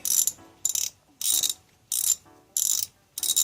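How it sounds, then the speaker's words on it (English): A ratchet wrench loosens a car engine bolt near the oil dipstick port in quick bursts of sharp clicking, about six close, loud runs separated by short pauses. "I'll remove this bolt right here."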